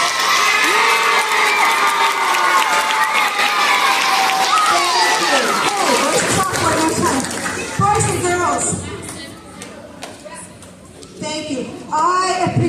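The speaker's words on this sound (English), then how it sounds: "Can we get one more big thank you round of applause for" An audience of schoolchildren at a STEM magic show claps and cheers loudly, with whoops and shouting voices over steady applause that fades toward the end.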